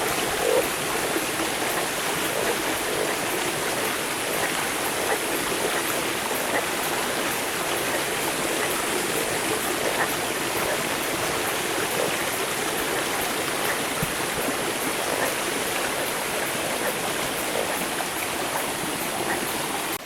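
Running water rushing over rocks in a stream in the Brazilian sertão, a dense, steady broadband wash that stays constant and close throughout, with no voices.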